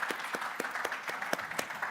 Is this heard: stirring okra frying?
no